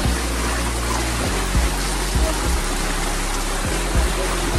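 Spring water flows steadily at the Chashme Shahi Mughal garden in Srinagar, Kashmir, a continuous close rush and trickle with a few faint low thumps beneath it and no voices.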